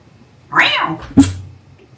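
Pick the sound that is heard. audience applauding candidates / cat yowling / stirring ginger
cat yowling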